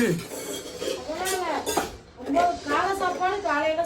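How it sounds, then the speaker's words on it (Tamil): Upma being stirred in a pan at home, with metal utensils clinking and scraping intermittently under a woman's continuous speech. "உப்புமா கிண்டிட்டு இருக்கேன்"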